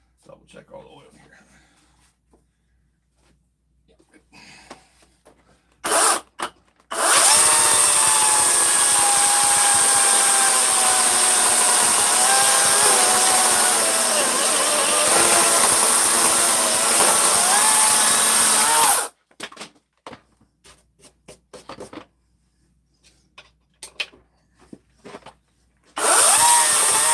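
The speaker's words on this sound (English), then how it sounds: "shaping work to speed things up with the chainsaw" A chainsaw cuts and shapes wood, running at a loud, steady high whine for about twelve seconds up close, then revving briefly again near the end, with quiet speech in the gaps.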